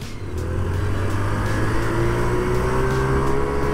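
A Honda Monkey 50 cc motorbike accelerating, its small engine pitch climbing steadily as it revs up, loud and close with a steady rising whine.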